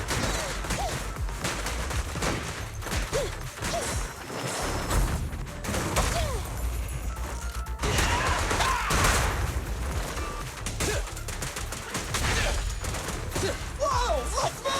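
Rapid bursts of gunfire and impacts from the video game Zenless Zone Zero, dense and repeated over a busy mix of combat effects, loud and close.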